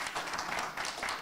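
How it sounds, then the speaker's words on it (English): A conference audience applauds the panelists in a hall, a steady patter of many hands clapping, moderately distant and fairly soft throughout. "Let's give a round of applause to our panelists."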